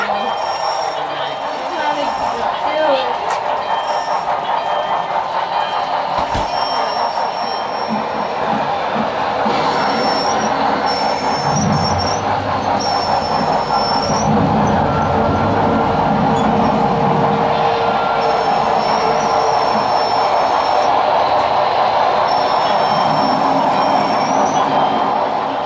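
A Halloween-themed model train rolls along its track in a busy layout display, giving a continuous rumble with wheel squeals and bright high-pitched screeches, while people talk nearby throughout.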